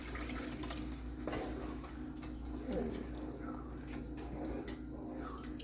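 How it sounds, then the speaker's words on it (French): Lukewarm water poured into a cooking pot while preparing jollof rice with vegetables, a steady close trickle and splash that continues for several seconds at moderate loudness. "c'est le moment de mettre de l'eau."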